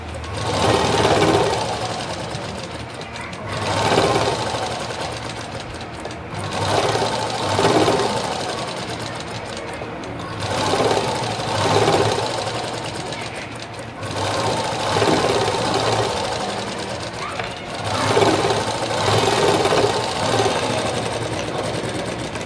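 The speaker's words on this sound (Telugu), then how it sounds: "బ్యాక్ పార్ట్ జాయింట్ చేశాక ఇలా టాప్ స్టిచ్ ఇచ్చుకోండి" An electric sewing machine runs top-stitching on a lined blouse, its rapid mechanical whir coming in repeated bursts of a few seconds each, separated by short pauses, close and clear without speech.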